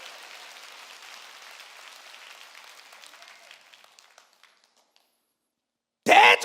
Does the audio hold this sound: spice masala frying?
no